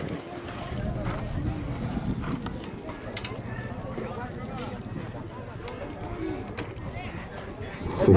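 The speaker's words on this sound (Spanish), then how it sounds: "Dos caballos, dos yokis que vienen." Two racehorses gallop in a 300-yard quarter-mile race, their hooves drumming in a rapid, steady rhythm under a crowd and an excited announcer talking throughout.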